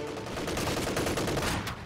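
Incoming gunfire in Company of Heroes 2, rapid overlapping bursts of rifle and machine-gun shots, steady and fairly dense for a couple of seconds.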